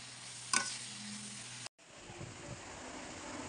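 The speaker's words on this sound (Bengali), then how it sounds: "এই যে নারকেলটা এখন কড়াইয়ে পাক দিচ্ছি গ্যাসে" Coconut and sugar being stirred in a wok over a gas flame for sweet coconut naru, a steady soft scraping and sizzle with a brief sharp clatter near the start and a short break partway.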